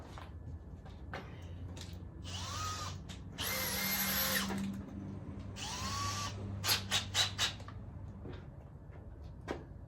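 A power drill bores into a steel frame for a workbench with a timber top, giving two sustained high whining bursts with short starts and stops around them, then a few brief trigger blips near the end.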